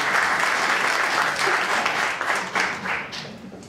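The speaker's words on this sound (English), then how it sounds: "let's give William Wesley a big round of applause" A morning audience at a VREN Pleasanton event gives loud, close, continuous applause for a guest speaker, thick and steady throughout before easing off slightly at the close.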